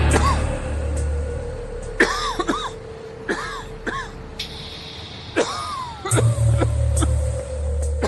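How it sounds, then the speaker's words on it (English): A breathless person coughs repeatedly in short harsh bursts with brief gasps between, over a low steady hum, amid the Bhopal gas leak. "I was quite breathless and constantly coughing"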